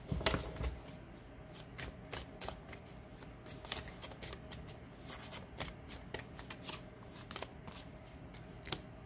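A deck of Mystic Dreamer tarot cards is shuffled by hand, with repeated crisp riffling and flicking bursts, fairly quiet and close, with no talk.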